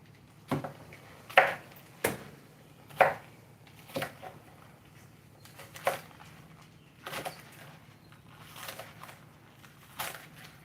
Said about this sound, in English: I'm gonna go ahead and give these some chops